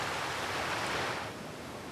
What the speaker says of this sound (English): Waves pounding against the shore move the sand and keep this barrier island in a state of constant flux